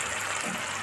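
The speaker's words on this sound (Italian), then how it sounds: "aggiungo l'acqua" Water pours into a pan of broad beans and tender artichoke stems, a steady close gushing rush filling the whole short moment with no talk over it.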